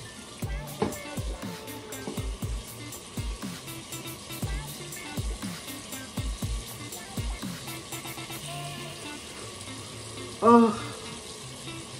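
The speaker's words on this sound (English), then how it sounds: "So what we're going to do is run the water again" Warm tap water runs into a sink for washing the face, a faint steady trickle broken by splashes and clinks, with a brief voice near the end.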